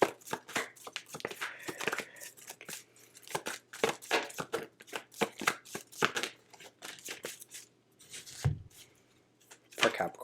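Oracle cards being shuffled during a tarot-style reading: quick, crisp snaps and riffles repeating in irregular bursts, close and fairly loud, with no talking.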